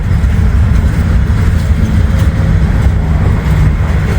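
Norfolk Southern freight train with gondolas loaded with old railroad ties passing near, a continuous heavy rumble and clatter of wheels holding at a loud, even level throughout.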